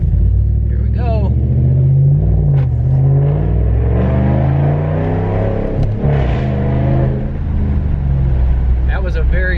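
A Hemi 5.7-liter V8 car revs with a loud, deep exhaust roar, climbing and falling through gear changes, close and dominant, with a voice briefly heard over it.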